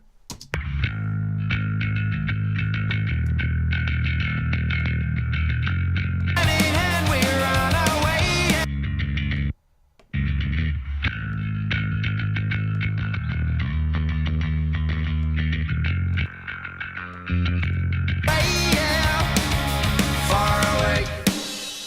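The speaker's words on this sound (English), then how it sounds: "the fuzz track is just just giving that distortion, which is where we get this awesome bass sound" A heavily distorted fuzz bass plays a thick, buzzing riff, joined in two stretches by brighter crashing cymbals and drums, with a brief drop to silence midway.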